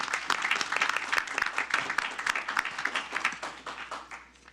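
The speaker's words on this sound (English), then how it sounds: "Let's give a big applause" Applause at a city council meeting, a moderate group clapping steadily in a meeting room for several seconds before thinning out and fading.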